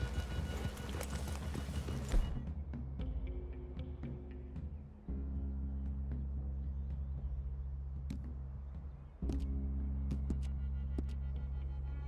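Horses clip-clop at a walk on a trail in Red Dead Redemption 2, near and steady hoofbeats with a brief louder burst early on, then the pace settles and picks up again, no talk over it.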